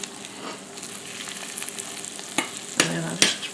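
Steady crackling sizzle of scrambled eggs frying and puffing up in a pan, with a few louder scraping clatters near the end as it's stirred or turned.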